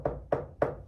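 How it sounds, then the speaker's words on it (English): Three sharp knocks on wood, evenly spaced about a third of a second apart, close and clear with no voices. "Knock on wood."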